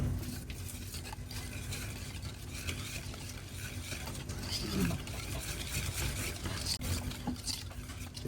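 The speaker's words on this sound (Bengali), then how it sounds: "আমি এটা ভালো করে মিক্স করে দিচ্ছি" A prawn kebab marinade made with mustard oil is mixed by hand, giving faint continuous wet stirring and scraping against a low background hum.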